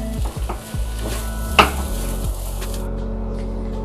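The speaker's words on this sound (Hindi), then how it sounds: "इसे भी हम इसी तरह से अच्छी तरह से मिक्स कर लेंगे।" Boiled, mashed potato is stirred into a pan, with soft scraping strokes and a steady low sizzle throughout and one sharper clack of the spoon against the pan midway.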